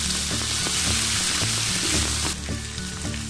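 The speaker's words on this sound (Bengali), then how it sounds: "দেখেন কলিজাগুলো ভাজা হয়ে গেল" Pieces of beef liver sizzle loudly in a hot pan, a dense continuous crackle with a few scraping stirs that quiets slightly toward the end, with no talking.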